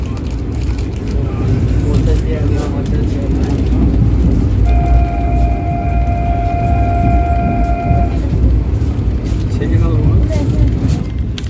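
Vande Bharat Express running past two freight trains one after another, a loud continuous rail rumble with a sustained horn blast in the middle; a voice talks over it.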